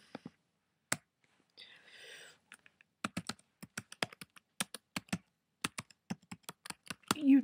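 Typing on a computer keyboard, sharp distinct keystrokes in irregular bursts, close and clear against near silence, with a brief rustle early on and a short voice at the end.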